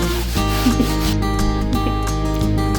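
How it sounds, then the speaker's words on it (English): Spackle on a wall is sanded by hand in a continuous, close, loud rubbing scrape with faint rhythmic strokes. "But first I have to sand all of the spackle."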